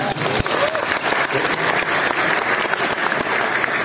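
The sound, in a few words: audience applause for Gadjah Mada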